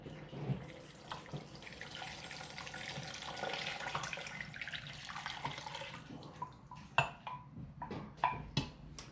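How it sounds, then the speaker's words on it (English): Four cups of chicken broth pour into an Instant Pot during home cooking, a steady liquid stream with splashing, then several sharp clinks and drips near the end; no talking. "And then you have 4 cups of chicken broth."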